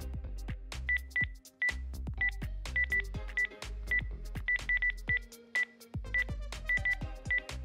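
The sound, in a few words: telephone keypad tones dialing a phone number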